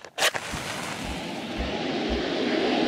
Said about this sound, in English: I wonder if I can kill them with the fireworks.